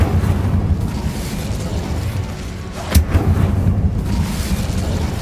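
An Incendio fire spell cast in the Hogwarts Legacy game inside a tomb gives a sudden whooshing burst of flame over low rumbling ambience, a single sharp blast midway.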